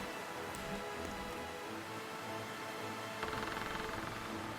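Steady rain sound effect for a storm forming overhead during a tabletop game session, a continuous broadband hiss with a brief denser patter near the end, no talking.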